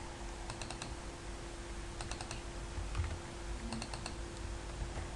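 C++ code being typed on a computer keyboard: quick clusters of crisp keystrokes in separate bursts over a steady low electrical hum, with no voice.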